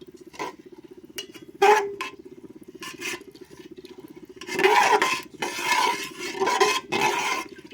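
Water and milk being stirred together in a cooking pot at home, with scraping and clinking of a utensil against the metal, quiet at first and then louder, busier strokes toward the end.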